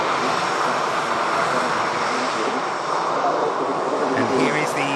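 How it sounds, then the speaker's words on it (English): A TUI Boeing 787 Dreamliner jet at Manchester Airport gives a continuous loud engine roar that holds steady, rising slightly near the end as it passes. "And here is the TUI. 787 Dreamliner."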